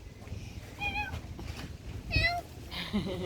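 A person imitates a cat's meow several times, producing short, high, nasal mewing calls near the microphone over a low background rumble outdoors at a cemetery.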